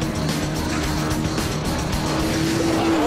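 Aston Martin DBS driven hard on a race track, a loud, continuous engine roar with tyre squeal and a rising engine note toward the end, heard close and steady.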